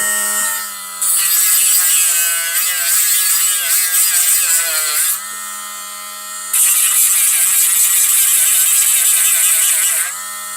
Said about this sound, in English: I literally just take a Dremel and just grind it flat.